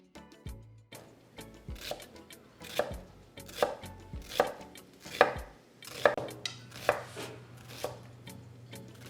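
A knife slices through salmon flesh on a cutting board, stopping short of the skin, in a series of about eight evenly spaced, crisp thuds against the board, close and fairly quiet.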